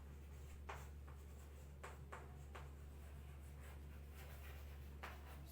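A marker or chalk writes notes on a board during a grammar lesson, giving short, faint scratchy strokes in irregular bursts against a quiet room hum with no talking.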